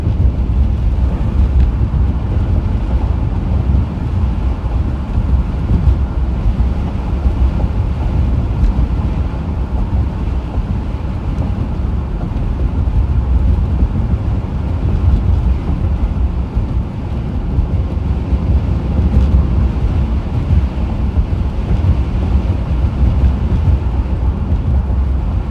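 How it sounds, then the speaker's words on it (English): Strong wind roars steadily and loudly through a lake effect snowstorm with whiteout conditions in southwest Michigan, buffeting the microphone without a break. "The wind's been blowing it onto the road."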